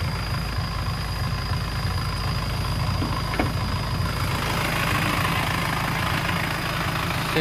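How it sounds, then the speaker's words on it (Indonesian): A 2500cc Isuzu Panther from 2000 idles steadily and close, a continuous low diesel rumble with an even throb and no voices over it. "Suara mesinnya masih enak."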